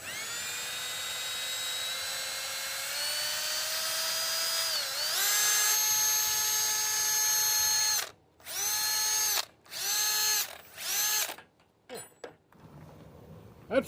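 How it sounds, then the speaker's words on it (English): Power tool bevelling the inside edge of a metal clamp: a loud, steady high-pitched whine holds for about eight seconds, then cuts into several short bursts with gaps before stopping. "I'm going to bevel that inside edge a little."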